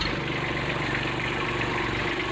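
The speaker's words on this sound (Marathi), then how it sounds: "ते बघा ट्रॅक्टर पुढे घेतोय" A farm tractor engine runs steadily as the machine creeps forward, a close, continuous low rumble with no pauses.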